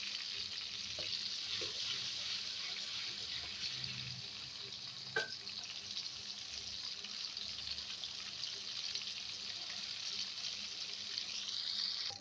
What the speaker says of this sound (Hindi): लहसुन अदरक फ्राई हो चुका है।